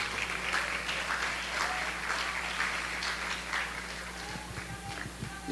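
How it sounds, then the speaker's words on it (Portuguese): A church congregation at an international prophetic congress applauding, dense sustained clapping from many hands filling the room at moderate volume, with a low hum underneath. "Você pode aplaudir ao Senhor?"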